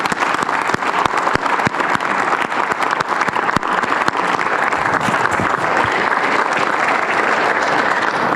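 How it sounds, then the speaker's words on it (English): An audience claps steadily at an event honoring military veterans, a dense and loud applause that holds for several seconds without pause. "Let's give them a round of applause."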